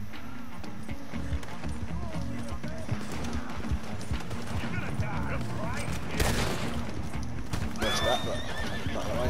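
Galloping horse hooves pound in rapid clip-clop rhythm during a chaotic Red Dead Redemption 2 chase, mixed with neighing, bursts of gunfire and shouting voices.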